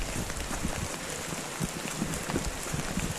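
Steady rain falling on the Appalachian Trail between Shippensburg Road and Pine Grove Furnace State Park, a dense, even hiss with small scattered drop taps, heard alone throughout.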